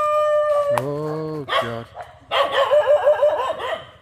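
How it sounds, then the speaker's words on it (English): Temple dogs in Kanchanaburi, Thailand, let out a long close howl, then several sharp barks and yips that overlap as more dogs join in, loud and nearby, with a brief spoken exclamation. "One starts barking and then a load more come."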